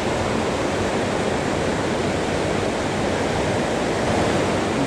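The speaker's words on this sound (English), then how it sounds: "I just reached the river. This is at the graveyard, and the water level is actually very good." Ranikhola river, a tributary of the Teesta in Sikkim, rushes past at a good water level, making a steady, loud, broadband roar of flowing water with no talking, unchanged throughout.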